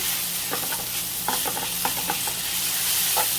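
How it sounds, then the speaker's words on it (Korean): Potato frying with salt in a pan, a constant close sizzle broken by soft rhythmic stirring scrapes, with no voices. "이거를 살살 볶아줍니다"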